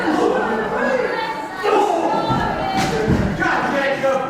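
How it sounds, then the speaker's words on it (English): A wrestling crowd at an indoor show roars and chants continuously in two competing groups, a dense wall of voices with occasional thuds from the ring. "You hear dueling chants."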